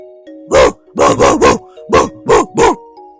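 A man in a police station imitating a dog, voicing six loud, close woofs in quick uneven bursts, with a faint steady tone running underneath.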